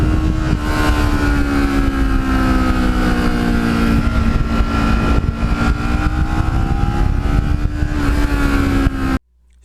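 A Kawasaki Ninja motorcycle engine hums steady and loud while riding, with a slight rise in pitch, then cuts off abruptly at the end.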